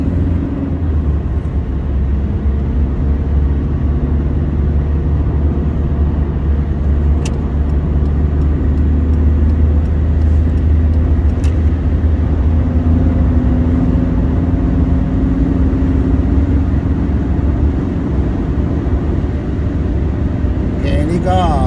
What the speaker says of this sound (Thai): เดี๋ยวก็จะขับที่ความเร็วสูงนะครับ